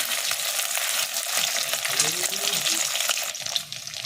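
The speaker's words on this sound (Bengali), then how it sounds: "এরপর একটা একটা পনিরকে এইভাবে লাল লাল করে ভেজে দিন।" Paneer pieces frying one by one in hot oil for chilli paneer, a dense, continuous sizzle with crackling bursts, close and fairly loud, with no talking over it.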